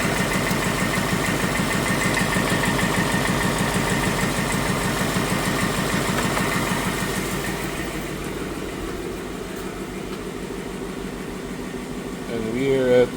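A Mustang's car engine idles with a steady low hum and faint vibration beneath continuous talking, quieting slightly toward the end.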